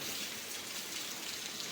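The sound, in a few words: heavy rain outside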